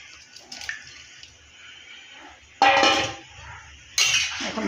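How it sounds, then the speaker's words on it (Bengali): Water and jackfruit pieces going into a cooking pot, with quiet metallic clinks followed by two louder bursts of splashing and clattering, close by. "এখন আমি পরিমাণ মতো জল দিয়ে দিচ্ছি। এই যে কাঁঠালগুলো এখন আমি দিয়ে দিচ্ছি।"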